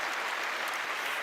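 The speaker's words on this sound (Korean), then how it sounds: "본인을 위해서, 회사를 위해서, 제품을 위해서 박수 한번 보낼까요?" Audience applause at a company meeting, a dense, even wash of many hands clapping at once, sustained and fairly loud from start to finish.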